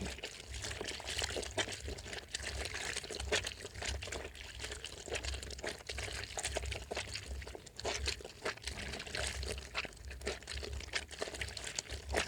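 Soft, quiet sloshing and squishing of water as soap is dissolved in it by hand, a continuous low splashing with faint crinkly textures and no voices.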